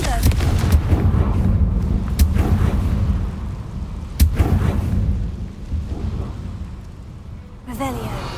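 Confringo blasting spell from Hogwarts Legacy erupts in booming explosions, with a sharp blast near the start and another midway over a rumbling backdrop and crackling debris, while a voice casts the spell.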